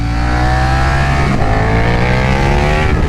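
A 2022 KTM 1290 Super Duke R motorcycle engine cycling on and off throttle at low speed, a loud, steady, close roar with a small dip and recovery in pitch partway through.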